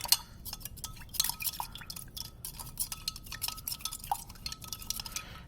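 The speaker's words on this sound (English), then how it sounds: "We want to pour our salt in, and we want to stir." A spoon stirs salt into water in a lab container, giving quick, irregular clinks and taps against the container with light liquid swishing, close and fairly quiet, with no voices.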